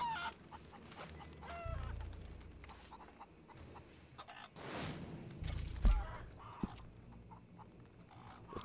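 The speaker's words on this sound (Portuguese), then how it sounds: "Aqui você pode encontrar o galo." Rooster clucking at a ranch in the video game Red Dead Redemption 2, a few short clucks and calls over low game ambience, with no talk.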